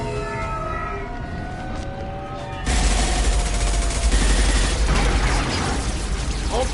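Gunfire in the video game Mass Effect Legendary Edition, starting as faint distant shots over a low hum and then turning abruptly into a loud, dense burst of continuous rapid fire.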